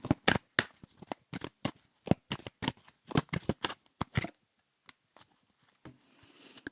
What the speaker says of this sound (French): on prend une petite carte du tarot pour finaliser le truc